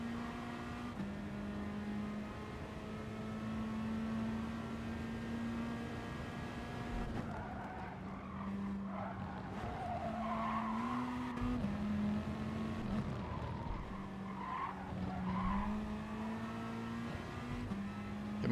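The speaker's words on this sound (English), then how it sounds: "Oh, the car's just got no grip on that section at all." A race car in the GT Sport video game runs with a steady engine drone while its tires squeal and skid through a low-grip section of the track, the scrubbing whine rising and falling over the engine note.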